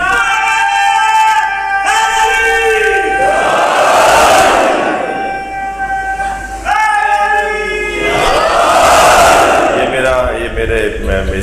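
A large crowd at a majlis mourning Imam Sajjad's martyrdom chants slogans loudly, with a single lead voice calling out and two big surges of the gathering responding together in unison.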